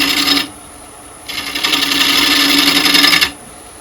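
A carving gouge makes pull cuts in yew wood. Two close, scraping rasps are heard, a short one and then a longer, steadier stroke after a pause, with no talking.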